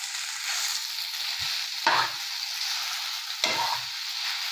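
Masala noodles sautéing in a pan keep up a soft steady sizzle, broken by two distinct scraping stirs.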